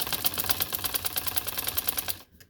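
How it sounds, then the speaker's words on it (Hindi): A machine runs rapid, even stitching through a dupatta for cutwork scallop embroidery. The close, steady mechanical rattle lasts about two seconds and then stops abruptly. "यहाँ फिर मैं सिलाई देती जा रही हूँ"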